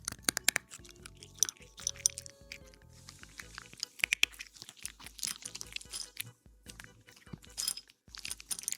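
Loud, close crunching and chewing as a pet eats dry food from a bowl, in irregular bursts with brief pauses between mouthfuls.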